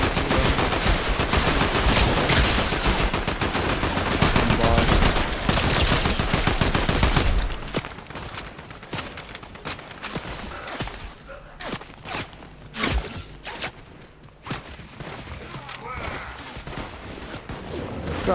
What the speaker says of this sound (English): Getting shot at from somewhere on top of the hill.